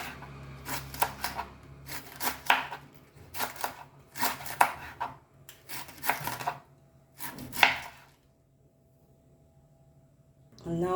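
Cabbage being chopped on a board for a Goan salad: bursts of rapid, crisp knife strokes in uneven runs, close and clear, with a pause near the end.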